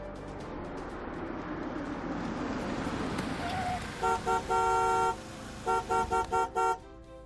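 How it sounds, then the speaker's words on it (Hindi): A car approaches with a rising engine rumble, then its horn honks loudly in one long blast followed by a rapid series of short toots. "आपकी गाड़ी आ गई।"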